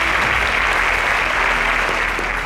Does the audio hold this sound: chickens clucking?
no